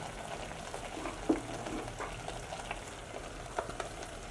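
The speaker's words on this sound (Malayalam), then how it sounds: "അടുത്തത് നമ്മൾക്ക് ഇവിടെ മാറ്റി വെച്ച ഷുഗർ സിറപ്പ് ഇതിലേക്ക് ഒഴിച്ചു കൊടുക്കാം" Sugar syrup is poured into halwa cooking in a pan, giving a faint, steady sizzle and bubbling with a couple of soft clinks.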